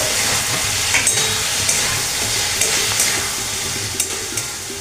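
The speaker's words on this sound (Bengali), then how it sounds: "টমেটোগুলো দিয়ে দিলাম।" Chopped tomatoes sautéing in a pan for fish kofta korma, a loud continuous sizzle with repeated light scrapes and taps of a spatula stirring them, close by and without talk.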